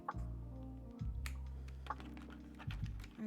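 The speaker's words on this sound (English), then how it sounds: "does suck that there's inconsistency in the sound just because obviously the bigger keys have more space under them" Keys clack on a mechanical computer keyboard, with bigger keys sounding different from smaller ones: sparse individual presses, faint and scattered over a steady low hum.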